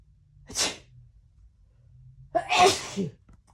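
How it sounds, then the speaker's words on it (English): Two close, loud sneezes, a short one followed about two seconds later by a bigger, longer one, with quiet pauses between. "Oh, I'm about to sneeze"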